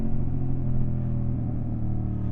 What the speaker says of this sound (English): So trail braking using the rear brake only, and there we go